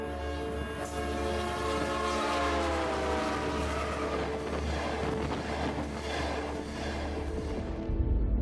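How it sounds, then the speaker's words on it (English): A loud train horn blares continuously as a train rushes past, its pitch sliding lower, with rumbling wheels underneath. "Think about how the pitch of a train whistle drops as it races past."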